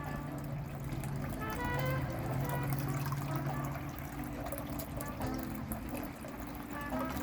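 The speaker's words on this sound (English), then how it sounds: "He's having his bath." A pet bird splashes in its bird bath, giving a soft, continuous watery patter and trickle that stays faint throughout, with background sounds around it.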